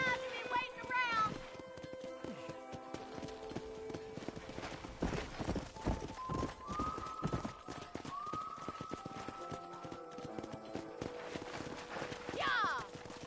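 Horses in Red Dead Redemption clip-clop at a trot in a sharp, rhythmic run of hoofbeats near a corral, with a whinny, game music and characters talking over them.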